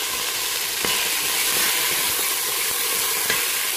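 Steady, loud sizzle of red onion frying in a saucepan, a continuous hiss with faint occasional clicks.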